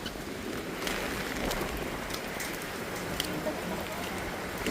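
Heavy rain pours down steadily during a typhoon on Saipan, a dense continuous hiss of drops on surfaces with gusty noise, loud and close throughout.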